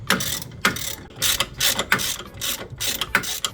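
A hand ratchet loosely tightens suspension bolts on a Jeep LJ during a rear lift install, clicking close up in about eight quick, evenly spaced bursts.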